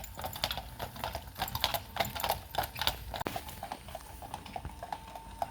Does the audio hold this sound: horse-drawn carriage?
yes